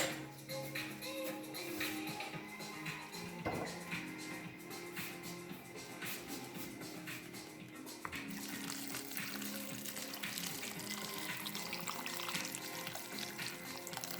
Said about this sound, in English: hot water to cover.